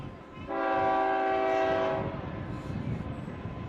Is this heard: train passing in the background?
yes